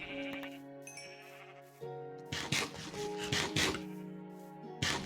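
Sheep bleating in the Minecraft video game, heard as several wavering bleats set against rasping, scraping game sounds and short clattering bursts.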